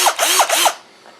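A power drill bores holes in a board for an Arduino robot, three short loud whirring bursts in quick succession before the motor winds down and falls quiet.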